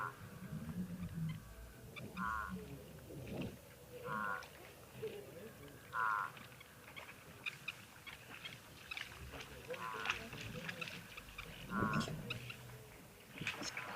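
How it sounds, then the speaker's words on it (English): Crows call at a waterhole in the wild, several repeated harsh caws spaced every couple of seconds, moderately near, heard over soft outdoor ambience with occasional quiet human talk. "Crows are always so chatty."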